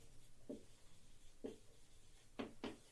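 Chalk or marker writing on a board during a Class 12 maths lesson on function domains: four short scratchy strokes in a quiet room, each brief and fairly close, the last two coming in quick succession.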